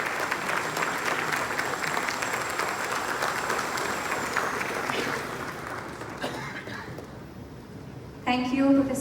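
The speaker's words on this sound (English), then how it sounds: "have a huge round of applause for this momentous occasion" An audience at a university forum applauds, a dense steady clapping that fades after about five seconds, followed by a brief spoken phrase and a sudden burst of sound at the end.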